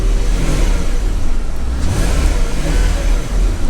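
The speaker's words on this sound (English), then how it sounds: "so I guess we can slightly rev it" A Porsche Cayenne S 958 with a 4.8L engine, throwing knock sensor codes, revved gently while warming up: a loud, steady engine drone rising slightly, heard up close with no talk.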